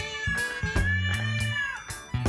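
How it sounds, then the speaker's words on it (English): A house cat meows repeatedly and insistently, several loud drawn-out cries close by, one stretching into a long wavering yowl, separated by short pauses in a quiet room. "Our cat does not like the fact that we're all home quarantined."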